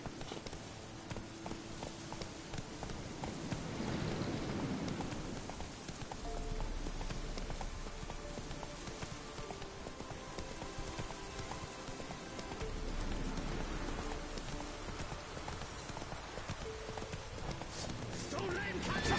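Galloping horse hooves in The Witcher 3, a steady rhythmic drumming under rainy ambience, with a voice speaking over the ride.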